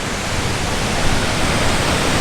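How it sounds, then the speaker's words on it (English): Harvelim Waterfalls in Goa, a short but fierce fall, roars as a dense, unbroken wash of crashing water, loud and steady throughout with no voices. "It's not tall, but it's a very fierceful waterfall."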